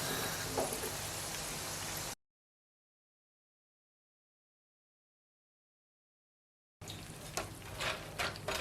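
Dense sizzling crackle of cashew nuts frying in oil, close and continuous, cutting out to silence midway and then returning with the same bubbling, popping texture.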